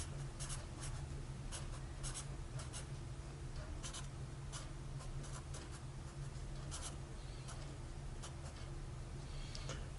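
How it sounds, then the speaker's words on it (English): Hand writing of equations on a quiet surface, faint soft scratches and ticks in an irregular rhythm over a steady low hum, with no talk. "So let's write both of them down"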